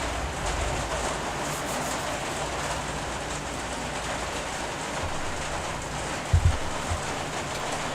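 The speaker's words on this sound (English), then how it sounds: "Oh no, it's raining." Rain pattering steadily on a plastic roof, a dense, even hiss of drops with a few louder thumps near the end and no talking.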